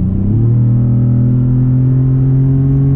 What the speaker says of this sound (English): I'm gonna say that this truck sounds better than the new Raptor.